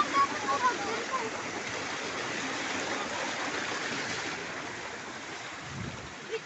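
Fresh alkaline spring water flows steadily at a hidden spring, a continuous broadband rush that stays even from start to finish, with a faint voice briefly heard near the start.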